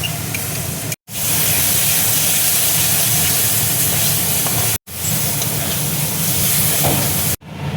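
Yogurt goes into hot fried semolina for dahi halwa and sets off a loud, close, continuous hissing sizzle. It cuts out to silence twice for an instant, then resumes just as strongly.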